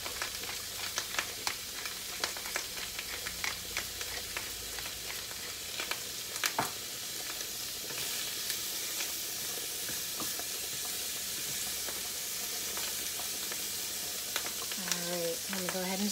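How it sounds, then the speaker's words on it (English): Jambalaya ingredients seasoned with bay leaf, salt and pepper sizzle steadily in a hot pan on high heat, with scattered close stirring clicks and scrapes, with brief voice-like sounds near the end. "Stir all of this together."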